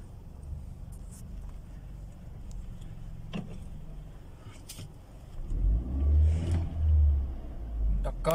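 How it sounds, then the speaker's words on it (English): A Hyundai Accent engine runs close by, idling with light ticking at first, then rising into deeper, louder revs that pulse up twice. "The car is running"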